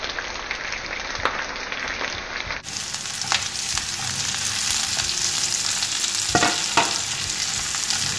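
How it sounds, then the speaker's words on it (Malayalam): Sliced onions with curry leaves fry in hot oil in a pan for Kerala-style beef fry, a steady loud sizzle and crackle close up, with a few stirring scrapes and no talking. "ഉള്ളി ഒന്ന് നന്നായിട്ടൊന്ന് മൂക്കട്ടെ"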